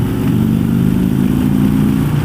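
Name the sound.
2016 Harley-Davidson Road Glide motorcycle on test ride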